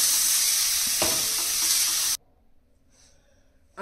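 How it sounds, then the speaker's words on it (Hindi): Loud, steady sizzling of onions frying in a hot pan for radish-leaf bhurji, with a stirring scrape, then abruptly cutting to near silence. "इस समय हम डाल देंगे इसमें ये प्याज और इसको भी हम सॉटे"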